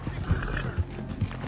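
Horse hooves clopping in Red Dead Redemption 2, a few distinct beats over a steady background hum, moderately faint, with no voices.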